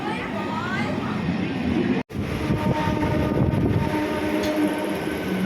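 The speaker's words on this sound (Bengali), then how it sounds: "উঠে গেলাম লোকাল ট্রেনে" A local train from Uttarpara toward Howrah rumbles and rattles along steadily, wheels clattering on the tracks, with a brief dropout partway through and faint voices underneath.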